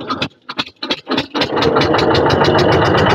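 A repaired wooden fishing boat's engine in the Sundarbans cranks in several loud, sputtering bursts, then catches and settles into a steady, close, rapid chugging idle.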